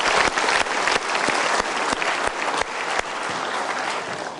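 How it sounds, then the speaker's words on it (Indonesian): An indoor audience at a motivational seminar claps steadily and fairly close, a dense wash of hand claps that holds for several seconds without a break. "Kita berikan tepuk tangan dulu."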